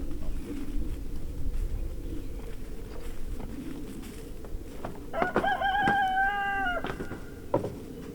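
Pastured chickens outdoors, with a low background murmur and scattered clucks, then a clear drawn-out crow or call rising near the end, fairly close and loud against the ambient noise, no talking.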